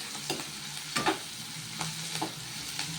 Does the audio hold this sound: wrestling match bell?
no